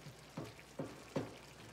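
Vegan mushroom stroganoff simmers on medium-low heat in a pan, with soft bubbling pops at a slow, irregular rhythm, close and quiet.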